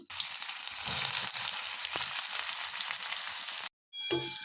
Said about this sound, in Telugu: మనం ముందుగానే కట్ చేసి పెట్టుకున్న క్యాబేజీ ముక్కల్ని వేసుకోవాలి